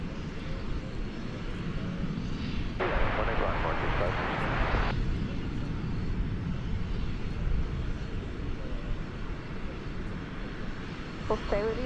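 A Qantas jet approaching DFW Airport at night hums as a distant, steady engine drone, with a brief burst of radio chatter and someone talking over it.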